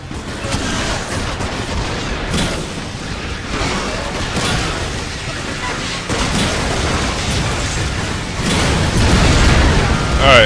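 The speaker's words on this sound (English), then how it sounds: "I see a lot of explosions here" Repeated explosions and booming blasts from the first-person shooter video game Hard Reset, dense and loud throughout, with continuous gunfire-like crackle and mechanical game noise.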